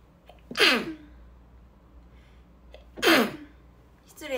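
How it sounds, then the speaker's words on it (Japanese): Two sharp, loud sneezes a few seconds apart, close by, with the start of a third at the end and quiet in between. "あー、くしゃみ出そう。"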